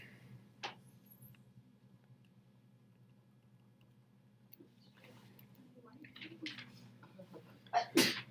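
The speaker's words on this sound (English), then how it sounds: "Bless you." A single sudden sneeze bursts out near the end of a quiet stretch in a classroom setting, loud and close, after faint rustles and brief speech-like sounds.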